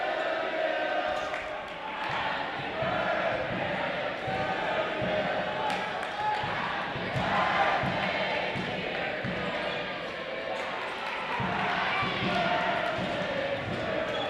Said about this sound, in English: Crowd singing happy birthday.